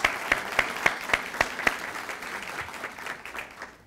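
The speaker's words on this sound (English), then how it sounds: "So if we could get a round of applause for both of them." Luncheon audience claps in a room, starting with a few sharp, evenly spaced claps that blend into a steady, moderate round of applause that thins toward the end.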